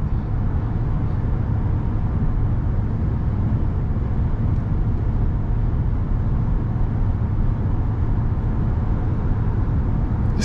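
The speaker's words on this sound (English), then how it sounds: "You can hear how well this truck goes over the bumps" A heavy pickup truck of over 5,000 pounds crossing a bridge, its steady low road rumble and cabin drone continuous and close with no talking.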